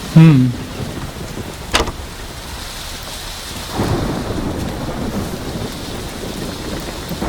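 A thunderstorm with heavy rain, where a sharp, loud crack of thunder breaks through the constant downpour and a deeper rolling rumble swells a couple of seconds later and lingers.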